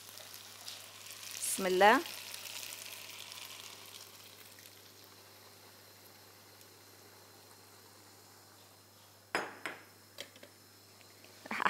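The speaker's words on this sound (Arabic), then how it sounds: "رح أحط المرق" Broth poured into a hot pot hisses into a sharp burst of sizzling, then settles into a quieter simmer, followed by a few clattering knocks of a spoon or lid; a brief spoken phrase comes before the pour.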